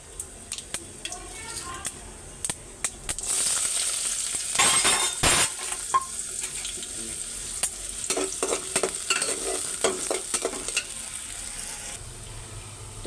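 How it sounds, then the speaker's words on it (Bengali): Cumin seeds and meat curry in a pan, with a sizzle of hot oil and frying under repeated scraping stirs and clinks of a spoon against the pan. "এখানে আমি এখন জিরা ফোড়ন দিয়ে মাংসটা বাগার দিয়ে নিব।"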